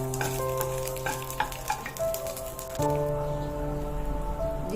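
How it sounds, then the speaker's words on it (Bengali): Bay leaf, dry red chilli and nigella seeds sizzle in hot oil for a Bengali vegetarian brinjal dish, a steady loud crackle with scattered sharp pops and stirring clinks, and no voices. "দিয়ে দিচ্ছি একটা তেজপাতা আর শুকনো লঙ্কা। দিয়ে দিচ্ছি কালো জিরে।"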